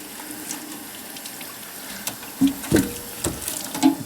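Running water rinses shampoo off a dog, a steady low splashing that breaks into a few louder gushes and splatters toward the end, close by with no talking.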